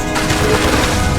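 Bombarda spell blast in the video game Hogwarts Legacy, a loud, dense burst of crackling gunfire-like impacts filling the short moment with continuous rumbling energy.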